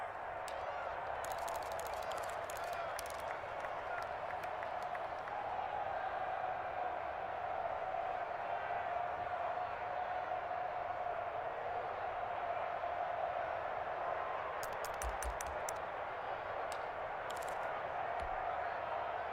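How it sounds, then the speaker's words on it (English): A large stadium crowd at a Browns vs Broncos football game roars steadily throughout, a dense sustained wash of voices with bursts of sharp clapping and whistles near the start and end. "Listen to this crowd now."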